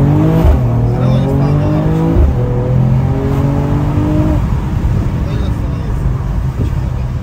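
A Mercedes E53 AMG turbo engine with a Stage 1 tune accelerates hard, its loud, steady rising note broken by a few gear shifts, with voices inside the car.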